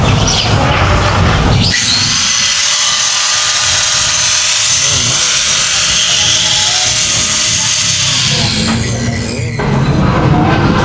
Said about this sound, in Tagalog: Ito naman yung grinder.